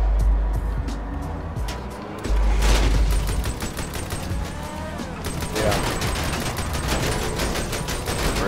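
GTA 5 gunfire during a vehicle vendetta match: rapid, evenly spaced automatic shots in long bursts, loud and close, mixed with engine and mechanical noise and occasional talk.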